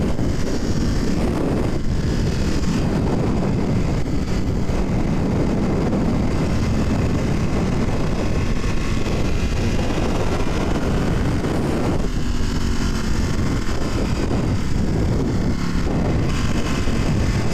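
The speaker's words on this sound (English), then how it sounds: "Now we get to take the Panigale through some twisties" A 2018 Ducati Panigale V4S motorcycle is ridden hard through twisting roads, with an engine roar that rises and falls under heavy, constant wind rush buffeting the microphone, loud and continuous, without speech.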